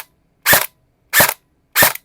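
An HFC electric airsoft rifle shooting around 480 FPS on full auto fires three short, sharp bursts, evenly spaced about two-thirds of a second apart, with silence in between.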